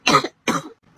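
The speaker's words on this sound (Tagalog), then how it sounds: "Ubo." Two sharp, separate coughs, each a dense broadband burst about a third of a second long, with the start of a third cut off at the end; close and loud, no talk.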